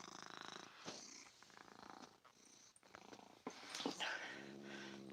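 A cat purrs up close in a quiet room, a soft steady rumbling purr that runs throughout, with faint movement and rustling noises around it.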